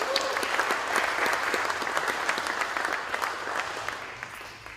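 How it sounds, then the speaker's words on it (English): A church crowd applauds the men's band at a live worship night, a loud, busy patter of many hands with distinct individual claps, tapering off toward the end. "Can we give the man band one more round of applause, please?"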